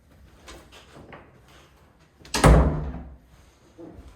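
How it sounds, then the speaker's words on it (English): A door in a city hall building opens and shuts, soft handling clicks followed by a loud, close thud as it closes, then a faint knock afterward. "Another door."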